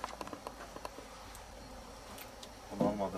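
Honeybees buzz faintly during a Mezla honey harvest outdoors, a thin steady drone with scattered ticking sounds, and a brief voice rises near the end.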